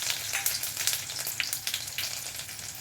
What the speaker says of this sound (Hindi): और लहसुन डालते हैं।